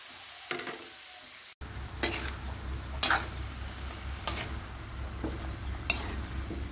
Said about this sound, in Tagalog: So ito guys, nagigisa na tayo ng ating pananghalian.